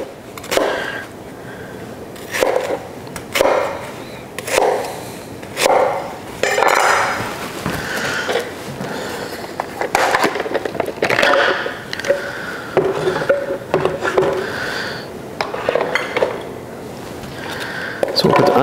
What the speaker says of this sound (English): Give them like a rough chop so they'll blend up quicker.